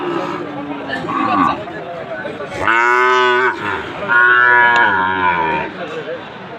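A Sahiwal bull at a busy cattle market lets out two long, loud, close moos, with people chatting around it.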